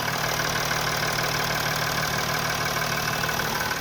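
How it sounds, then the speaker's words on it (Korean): A 2016 Mercedes-Benz S-Class four-wheel-drive engine idles steadily with the hood open, a smooth, even hum with no audible rattles, heard close and alone. "지금 이제 엔진음도 한번 들어볼게요"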